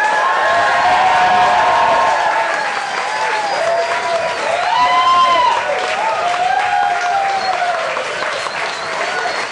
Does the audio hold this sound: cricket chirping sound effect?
no